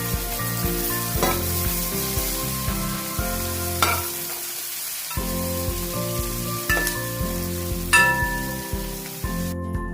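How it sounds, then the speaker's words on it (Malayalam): Curry leaves sizzle loudly in hot oil for a chicken curry, a dense crackling spatter running throughout with repeated stirring bumps and a brief lull midway. "കറിവേപ്പില ഇട്ടു, നാടൻ കറിവേപ്പില."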